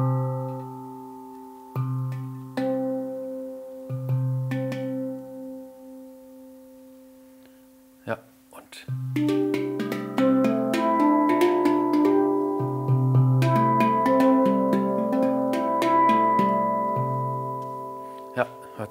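Handpan struck in slow single notes, then a denser run of ringing tones with strong overtones sustaining between hits, with a voice talking over part of it.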